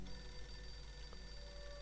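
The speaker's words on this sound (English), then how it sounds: "There's a phone ringing, boys" A phone rings in a video game, a steady electronic ring held over faint background hum for a couple of seconds.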